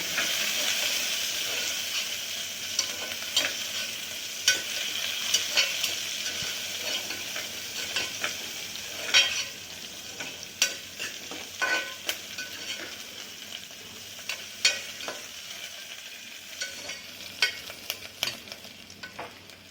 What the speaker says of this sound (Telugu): ఆనియన్ పచ్చిమిర్చి కరివేపాకు బాగా వేయాలి దోరగా